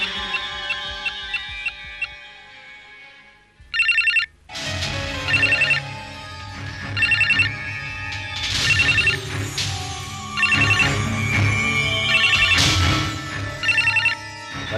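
A phone rings in repeated electronic bursts, each a short loud trill separated by pauses, over a quiet indoor backdrop with some background music.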